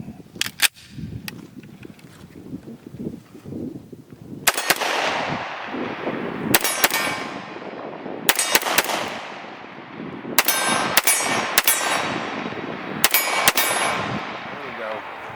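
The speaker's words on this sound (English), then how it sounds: "let's go ahead and see if we can shoot some more" Several close, loud shots from an FN FNX-45 Tactical .45 pistol ring out in short bursts and spaced strings, each a sharp crack with a ringing tail, over steady background noise and faint outdoor rumble.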